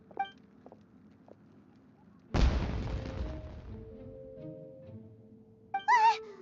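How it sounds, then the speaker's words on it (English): A loud fireworks-like explosion bursts out in the video game Genshin Impact, followed by a crackling, rumbling decay that fades over a few seconds, with short chirpy game sounds before and after. "Was that an explosion? It sounded like fireworks."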